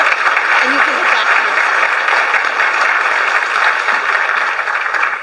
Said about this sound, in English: We'll give them another round of applause.